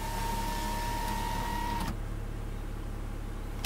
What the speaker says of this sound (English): I'm gonna go ahead and put the front two windows down.